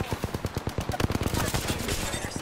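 Rapid automatic gunfire in the Apex Legends video game, bursts of sharp repeated shots in quick rhythm, loud and close, with faint voice chatter underneath.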